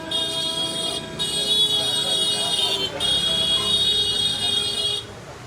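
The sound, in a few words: car horn honking on a street in Ahmedabad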